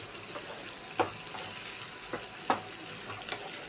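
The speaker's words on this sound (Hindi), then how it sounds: "इसमें हमने 3 टेबल स्पून तेल डाल दिए, और ये जो प्याज कटी हुई रखी थी इसको डाल देंगे।" Chopped onions sizzling in three tablespoons of hot oil in a pan, a soft steady frying hiss broken by a few clear stirring scrapes and taps, close and quiet with no talking.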